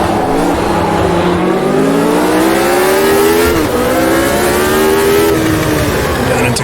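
Engine of a McLaren race car from the 1983 Race of Champions season in Automobilista 2, droning steadily and loud with rising and falling revs as it runs behind two Ferraris, continuous with no talk.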